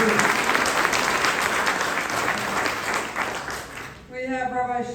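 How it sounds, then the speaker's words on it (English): A crowd at a Jewish American Heritage Month reception at Queens College gives a round of applause, steady dense clapping for about four seconds before a voice begins speaking. "Give them all a round of applause"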